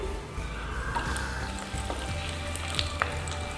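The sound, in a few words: curry leaves and split green chillies sizzling in hot oil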